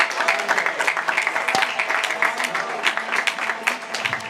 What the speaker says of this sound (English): Please join me in a round of applause to express our heartfelt gratitude to our PTSA